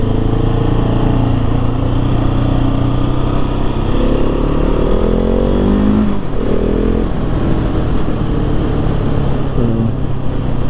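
A 2021 KTM 690 SMC R motorcycle engine roars steadily and loudly on the road, its pitch sweeping upward as it accelerates, with constant wind and drivetrain noise beneath.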